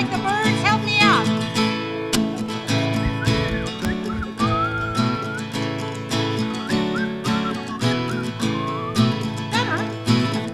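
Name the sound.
congregation whistling imitating birds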